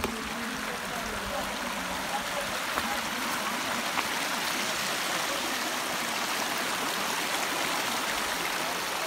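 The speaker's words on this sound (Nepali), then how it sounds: "सानो खोला तर्दै छ" A small stream rushes in a steady, continuous wash of flowing water, loud and close as it is crossed, with no clear pauses.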